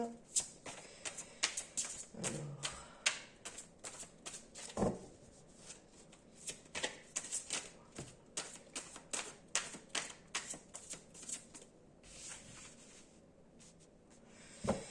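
Tarot cards being shuffled and drawn, with a steady series of crisp close flicks and slaps through the whole stretch while someone speaks in French over them.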